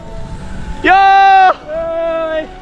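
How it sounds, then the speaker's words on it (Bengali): A baby goat bleats twice nearby outdoors: a loud, nasal bleat first, then a slightly softer, longer one after a short pause. "হ্যাঁ কুত্তার বাচ্চা না, ওটা ছাগলের বাচ্চা।"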